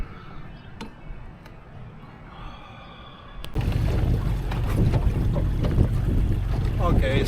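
After a quieter stretch with a few clicks, a Suzuki 140 HP outboard on a KingFisher 1825 Warrior Tiller boat kicks in loudly and roars steadily at full throttle, with wind buffeting the microphone.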